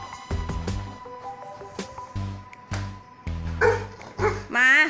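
A dog barks and yips repeatedly at home, a string of short sharp barks in quick bursts, close and loud, mixed with a person talking and some whining toward the end.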